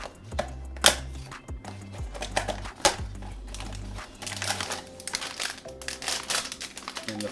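POP MART blind box packaging is torn open with a clean rip, giving sharp crinkles, snaps and rustling in irregular bursts close by, with no talk.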